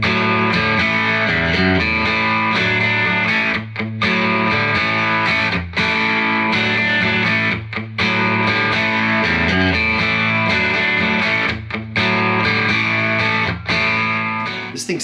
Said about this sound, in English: This thing sounds awesome with distortion